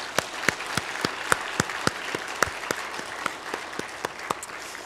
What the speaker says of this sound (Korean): 우리 격려의 박수 한번 해주시죠.